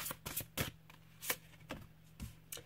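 Tarot cards handled and drawn from a deck: a handful of quick, dry papery snaps and flicks at uneven intervals, close and fairly soft, with no talking.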